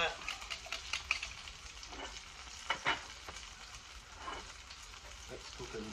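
A red velvet milk stout omelette sizzles and fries in a pan on a portable gas cooker, a steady crackling hiss with occasional stirring scrapes, close and moderate in level.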